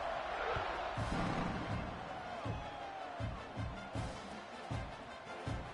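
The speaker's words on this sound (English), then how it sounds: "this crowd is buzzing after that last score." A football stadium crowd at an Ole Miss vs Oklahoma game keeps up a steady, loud buzz, with rhythmic low thumps and a commentator talking over it.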